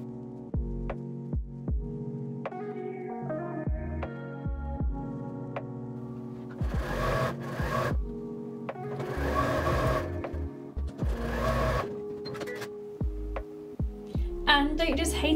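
A sewing machine joins rows of a pinwheel quilt block in short bursts, its motor buzzing on and off with brief pauses between runs, close by and fairly loud.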